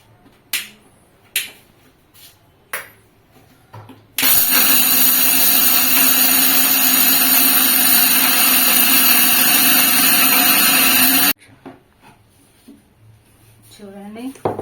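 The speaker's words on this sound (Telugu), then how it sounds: "ఇప్పుడైతే గ్రైండ్ చేద్దాము" An electric grinder whirs loudly and steadily for about seven seconds as it grinds turmeric and fenugreek into ubtan powder, then stops abruptly. A person talks briefly before and after the grinding.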